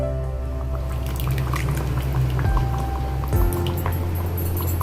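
Yogurt poured into a simmering Bengali fish curry, a close, steady liquid pouring and dripping sound over a constant low cooking hum, with a brief shift near the end.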